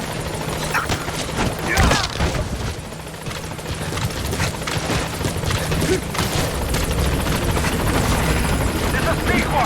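A helicopter in the video game Metal Gear Solid 5 arrives at a landing zone, its steady loud rotor roar and wash filling the scene with a few dull thumps mixed in.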